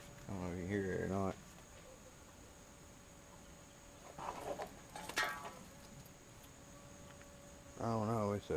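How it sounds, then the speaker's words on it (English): A carpenter bee buzzes intermittently in the background, with harmonic droning bursts near the start and end and scattered rustling in between. "it's a damn wood bee"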